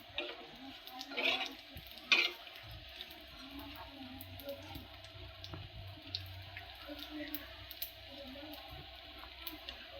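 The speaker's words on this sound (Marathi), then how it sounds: "हिरवी मिरची ते सगळं भाजून घ्यायचं" Green chillies frying in oil in a pan: a soft continuous sizzle with a couple of louder scraping stirs early on, close and moderate, no talking.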